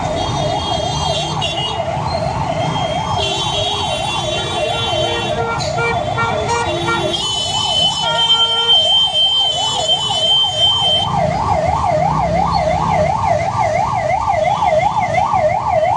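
A loud wailing ambulance siren cycles rapidly and continuously up and down, close by, stuck in a traffic jam, over the rumble of idling traffic and scattered horn blasts.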